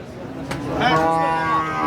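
A first-calf Holstein Friesian cow with four teeth lets out a single close, drawn-out moo at an outdoor cattle market, with crowd murmur in the background.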